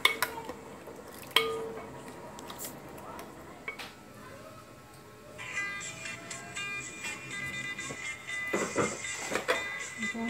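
A utensil stirs sago in a bowl for sago gulaman, making scattered light clinks and scrapes against the bowl that grow busier and louder toward the end, with no talking.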